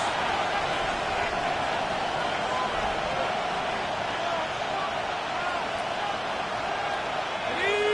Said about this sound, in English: This crowd, they're trying to force a false start. What noise